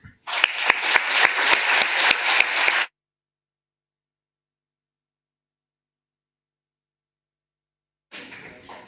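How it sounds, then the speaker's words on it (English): Applause from a graduation ceremony audience in Barcelona, a dense burst of clapping for about three seconds that stops abruptly, then silence before a faint clatter near the end. "I would like also to have a big applause for all of you."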